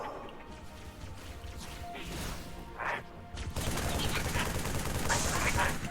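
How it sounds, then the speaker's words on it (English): Sniper rifle shots and gunfire in Halo 3: ODST, sharp cracks amid a steady roar of battle that swells louder in the second half, with game sounds layered over it. "Getting sniped."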